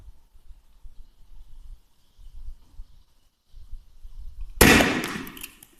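A 3D-printed airsoft launcher fires its projectile from five metres away, and a single sharp, loud burst breaks an otherwise quiet scene before a short hissing tail fades out.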